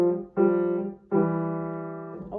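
Piano left hand playing harmonic intervals: two sustained two-note chords, the first struck and held briefly, the second held longer and fading slowly, quiet and close with no voice.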